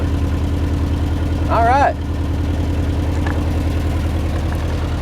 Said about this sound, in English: It's blowing all kinds of junk out of that muffler.